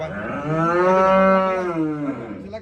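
A single long, loud cow moo close by, rising and sustained for about two seconds before trailing off.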